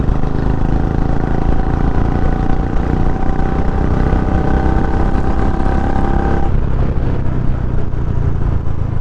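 A Royal Enfield Bullet 350 motorcycle fitted with an aftermarket silencer rumbles loudly while riding, its deep continuous engine thump changing pitch as the throttle shifts partway through.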